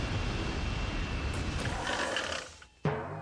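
A jet in the video game Incredible Crisis roars away, a loud broad whooshing rush that thins and fades before a sharp new sound cuts in near the end.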